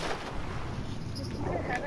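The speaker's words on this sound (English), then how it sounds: "And I heard gunshots." Dense, booming gunfire and explosive bursts, including rockets, rumble continuously in a Call of Duty Black Ops 4 Blackout battle royale soundscape, fairly distant and muffled, with no clear pauses.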